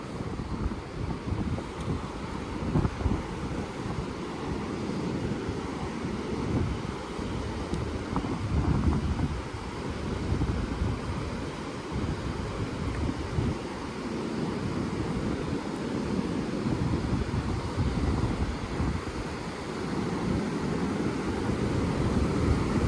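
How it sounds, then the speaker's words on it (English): Rushing water of the Mississippi River beside a riverwalk boardwalk in Almonte, Ontario, a steady broadband roar with wind buffeting the microphone throughout, continuous and fairly close. "the water is really rushing here"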